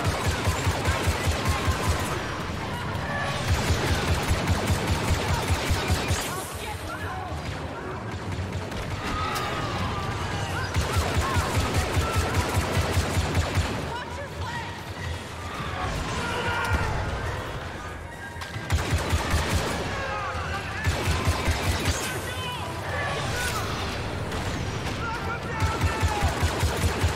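Blaster fire from Star Wars Battlefront II runs in rapid, near-continuous volleys mixed with crashes and explosions, loud and dense throughout, and a player talks over the firefight.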